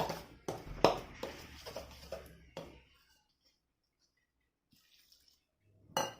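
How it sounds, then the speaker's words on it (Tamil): Water is poured and stirred into raw banana bajji batter in a bowl, making a run of wet slaps and splashy taps, close and fairly quiet, before the sound falls almost silent with one last knock. "இப்போது நம்ம கொஞ்சம் கொஞ்சமாக தண்ணி ஊற்றி இதை நல்லா மிக்ஸ் பண்ணிக்கலாம்."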